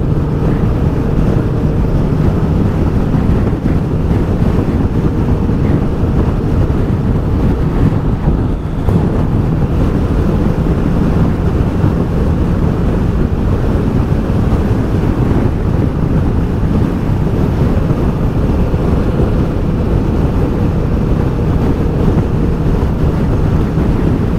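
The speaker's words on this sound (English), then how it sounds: "I'll show you where the air comes in. It comes in here, about here. That's where the air hits me." Loud, constant wind roar buffets the microphone while riding a Kawasaki Ninja 650 motorcycle, a dense rushing blast with the engine buried beneath and no break for the whole ride.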